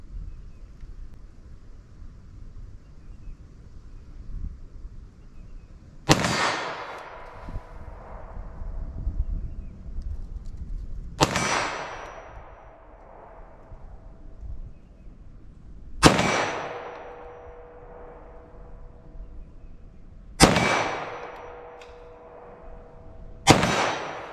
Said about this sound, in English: slow fire a few